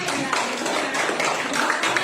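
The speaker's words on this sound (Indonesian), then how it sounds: "tepuk tangan untuk Ice." Children in a classroom clap together for a short burst, with brisk, uneven hand claps sounding close and lively over roughly two seconds.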